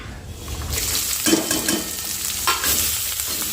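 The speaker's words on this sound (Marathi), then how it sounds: "कढईमध्ये थोडंसं तेल टाकलेलं आहे आणि यामध्ये आता जिऱ्याची फोडणी टाकायची आहे" Cumin seeds tempering in a little hot oil in a wok, a steady broadband sizzle with brief louder bursts as the seeds hit and are stirred, close and continuous with no talk.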